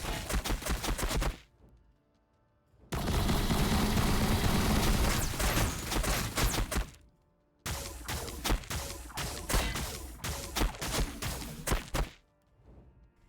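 Gunfire rattles in Warhammer 40,000: Battlesector as dense bursts of rapid shots, three long volleys separated by short quiet gaps, loud and close.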